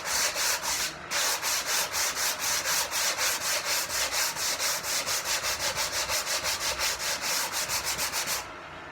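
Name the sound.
hand sanding wood with sanding block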